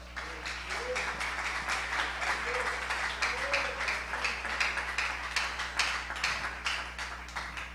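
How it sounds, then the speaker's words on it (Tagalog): Church congregation at a Filipino worship service claps for God, a moderate, steady patter of many hands continuing for several seconds over a low electrical hum. "Palakpakan natin ang dakilang Diyos."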